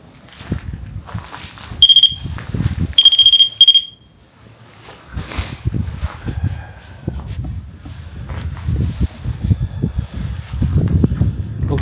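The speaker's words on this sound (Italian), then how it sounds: "noi abbiamo messo uno strumento lì a terra che basta avvicinarsi, suona, non fa niente di male" An electronic proximity alarm sensor set on the floor during a paranormal investigation gives off two bursts of sharp, high beeping near the start, followed by shuffling, rustling and footstep-like movement nearby.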